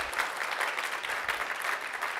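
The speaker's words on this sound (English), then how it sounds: "You can clap for Aaron." A keynote audience at a conference claps for someone, and brisk applause with scattered bright hand-claps continues at a steady level.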